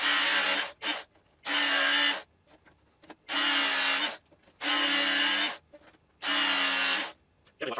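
A Work Sharp belt sharpener whirs in five short bursts as a knife blade is drawn across the moving belt, each buzzing stroke about a second long with brief pauses between.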